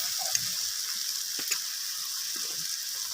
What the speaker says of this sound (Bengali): ভালো করে কষিয়ে নিচ্ছি পেঁয়াজ আর টমেটোর সাথে